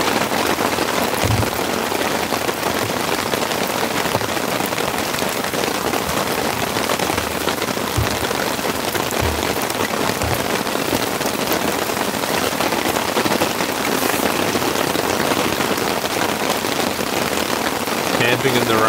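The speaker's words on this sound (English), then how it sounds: "Camping in the rain with a big roaring fire. It's absolutely pissing down." Heavy rain pounds steadily on a tent at a campsite with a big roaring campfire, a dense continuous hiss with occasional louder drops and faint talk mixed in.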